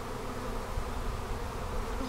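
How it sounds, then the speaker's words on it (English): A swarm of honey bees that has left its hive buzzes in a dense, steady drone, with many insects humming together outdoors. The sound is continuous and fairly faint, with no voices. "Who goes with the swarm? Foragers, nurse bees, drones, they all go out together."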